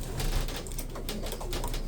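Pigeons cooing in a loft, a steady layered murmur of low throaty calls over constant background noise, close and fairly loud throughout.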